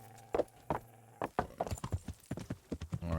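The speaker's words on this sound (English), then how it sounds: "back this horse up" Horse hooves clopping slowly on hard ground while backing up in the medieval video game Kingdom Come: Deliverance, a series of distinct, fairly quiet steps, sparse at first and then quicker and more regular.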